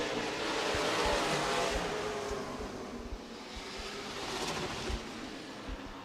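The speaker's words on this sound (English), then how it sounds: "Sounds like a little misfire coming from the number 5 car, Scott Baker." The number 5 late model race car runs at Redwood Acres Raceway with a misfiring engine, giving a continuous roar with irregular low thumps and stutters, heard from a distance amid track noise.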